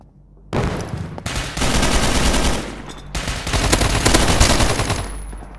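Automatic gunfire in the shooter video game Poly War, loud sustained bursts of rapid shots with a short break between them.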